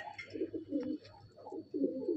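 Low, rolling coos from a Madrasi pigeon in a loft, three or four throaty phrases in quick succession, close and fairly clear with no talking.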